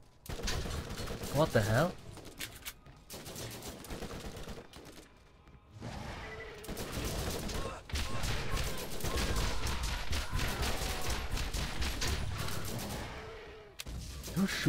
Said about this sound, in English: There's some prick shooting us from the side, you know.